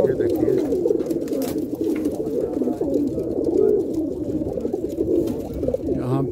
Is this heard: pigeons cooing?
yes